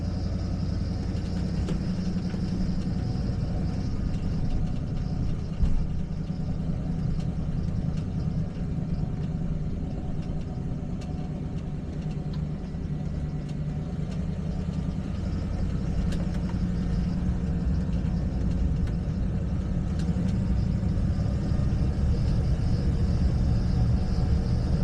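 A 1991 Clarion motorhome engine runs while driving, a steady low rumble with road noise throughout, even and continuous.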